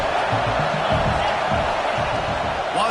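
Stadium crowd in a college football video game, Wisconsin versus Texas, roaring in a steady, loud, dense wash of cheering throughout, with no gaps.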